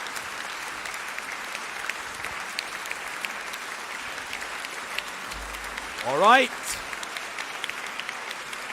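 An audience at a Nigerian youth debate playoff applauds a debater, a steady spread of clapping throughout, with a brief voice and a short rising tone partway through.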